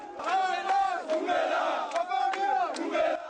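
A street crowd in Kinshasa's Lingwala district cheers and shouts for Joseph Kabila as he passes on foot, loud overlapping voices rising in waves with sharp whistles cutting through.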